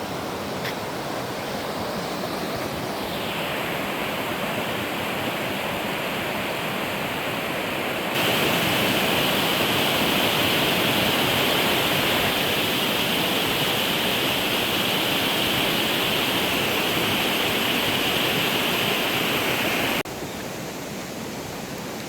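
A river stream rushes through Miandam valley in Swat, making a continuous broadband roar of flowing water. It stays loud and steady throughout, with no voices.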